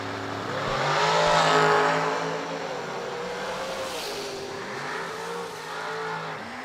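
Drag racing car launching down the strip at World Wide Technology Raceway, a loud engine roar swelling and rising in pitch as it pulls away, then a second surge of revving near the end, with no talk over it.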